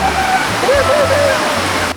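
River water rushing steadily at a bathing spot near Borongan City, a loud close continuous flow like a small waterfall, with a voice faintly heard underneath.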